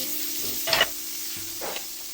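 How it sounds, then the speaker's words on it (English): Butter sizzles in a hot frying pan on the stove, a soft steady hiss with two brief louder crackling bursts, close by and alone. "we're going to add butter into a pan"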